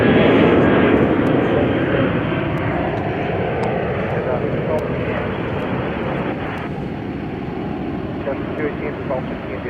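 Southwest Boeing 737-800 jet airliner departing, a loud broad jet roar that is strongest at the start and slowly fades over about ten seconds, with some wind buffeting on the microphone.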